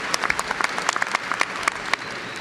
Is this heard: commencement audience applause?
yes